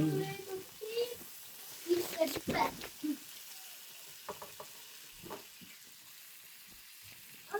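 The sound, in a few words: onions frying in a pan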